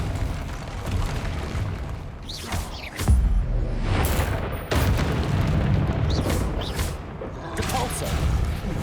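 Repeated explosive blasting curses in Hogwarts Legacy combat: several loud booming bursts, sharp at about three and five seconds, rumbling through dense fighting noise with whooshes between them.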